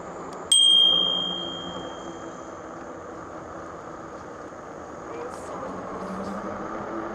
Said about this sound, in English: This is a loud bell.